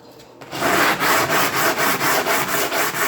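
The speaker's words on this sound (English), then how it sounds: "Now you just take a piece of sandpaper" New kitchen countertop pieces being sanded by hand with sandpaper: loud, close, steady back-and-forth rubbing strokes in an even rhythm, with no talking.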